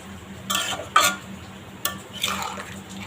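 A spoon scrapes and clinks through potato and pointed gourd curry cooked in coconut milk in a pan, giving a few separate close stirring strokes with soft wet shuffling between them.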